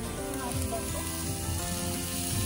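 Sausage frying in a pan outdoors, a steady close crackling sizzle that holds evenly throughout with no break.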